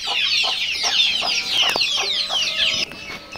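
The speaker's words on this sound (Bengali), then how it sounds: "এটা হচ্ছে লেয়ারের মোরগ" A layer-breed rooster at a hatchery clucks repeatedly in a steady rhythm, close and loud, with other fowl calling around it.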